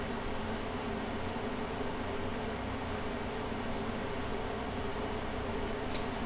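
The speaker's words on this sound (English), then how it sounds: "when I turned on the welder, I could see my draft curtain doing its magic" A TIG welder joining a bicycle frame's bottom bracket to its seat tube gives a steady, unbroken electric hiss and hum that holds at a constant level from start to finish, with no voices.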